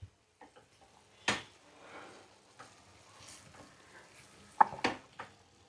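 Jackfruit seed curry is stirred in a pan: sparse spatula scrapes and sharp metallic clinks with quiet gaps between them, close and fairly clear.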